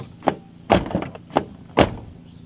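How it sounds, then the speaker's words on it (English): A car door fitted with universal fender flares opens and closes repeatedly, four sharp close thuds spaced evenly and heard nearby with no talk. "this door opens and closes"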